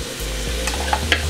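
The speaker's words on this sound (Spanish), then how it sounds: "Y vamos a refreír un poco." Chopped onion and bell pepper fry in a pan for a seafood casserole, a loud continuous sizzle with brief utensil scrapes as the vegetables are stirred.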